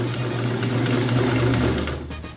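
Domestic sewing machine stitching a zigzag seam for a machine-made open hem, a steady close motor hum with rapid regular needle clatter that slows and stops near the end.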